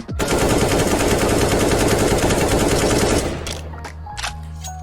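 Rapid automatic gunfire in CS:GO rattles loud and close for about three seconds. A few sharp clicks and bursts follow as it stops.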